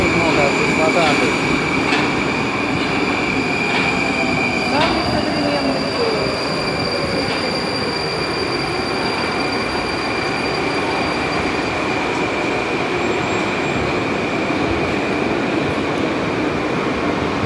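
A Moscow Metro train runs loudly on the rails during a train parade, with steady rumble, high wheel squeal and tonal whine, a few clicks, and voices faintly underneath.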